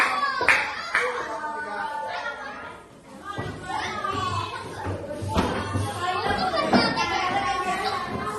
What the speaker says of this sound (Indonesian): Nah, tepuk tangan untuk kelompok A.